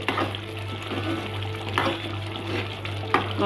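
Soft bubbling and sizzling of a thick, spicy tamarind curry simmering in a pan, with a steady low hum and occasional stirring clinks nearby.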